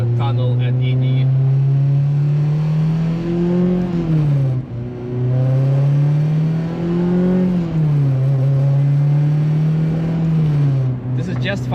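A K20-swapped Honda Civic EJ1 engine revs repeatedly to about 5,000 RPM inside a tunnel, its loud, tonal exhaust note rising and falling in several smooth swells, close and echoing.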